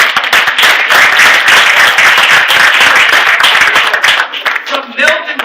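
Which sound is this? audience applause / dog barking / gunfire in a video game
audience applause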